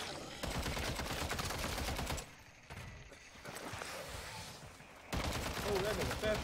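Rapid bursts of video game gunfire crackle loudly in dense volleys, dropping to a quieter stretch mid-clip before the shooting resumes at full intensity, with game sounds and background noise throughout.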